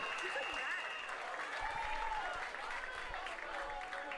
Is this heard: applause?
yes